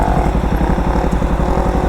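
A KTM RC or Duke 250 motorcycle runs steadily up close during wheelie stunt training, its engine giving a continuous, even rumble with a fast pulsing throb and no voices.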